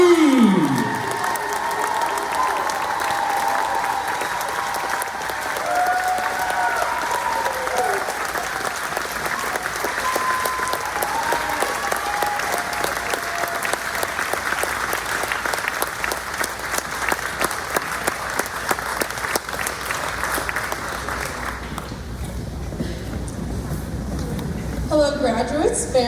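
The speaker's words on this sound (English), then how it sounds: "let's give a big round of applause for the Crossroads graduating class of" Sustained applause from a graduation audience of family and friends for the Crossroads class of 2023, a dense wash of clapping with scattered cheers running for over twenty seconds before thinning out at the end.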